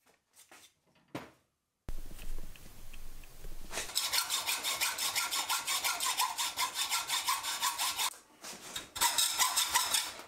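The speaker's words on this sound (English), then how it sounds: "you can ream wood and the fit is going to be way better than you'd expect" A reamer works through a bored hole in wood, cutting a face gear part, with a steady rhythmic rasping of repeated strokes, close and fairly loud, pausing briefly before resuming.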